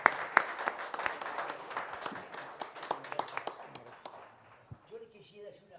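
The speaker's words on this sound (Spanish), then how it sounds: "Si le podemos dar un aplauso por el tiempo que nos ha brindado el día de hoy." Audience applause rising after a request to thank a departing guest at a talk, a dense run of claps lasting several seconds before thinning out, with speech mixed in near the end.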